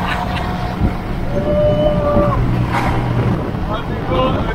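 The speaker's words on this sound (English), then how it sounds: "going in a proper tractor like this" A proper tractor rumbles along as riders travel through a village near Şirinköy, Ödemiş in İzmir, Turkey, its steady engine drone mixed with wind noise and rattling, and people talk throughout.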